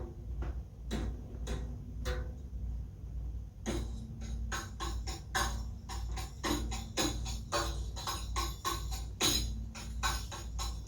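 Semi rhythm in 10/8 played on crisp, ticking percussive hits over a steady low drone, sparse at first then denser clusters of quick taps repeating in a cycle.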